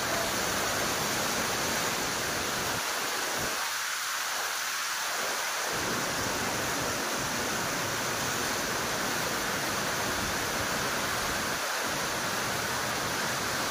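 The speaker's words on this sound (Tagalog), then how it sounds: "Ulan na naman, ala." Heavy rain from a typhoon pours down steadily as a loud, dense hiss that fills the whole stretch, with a few brief dips in intensity.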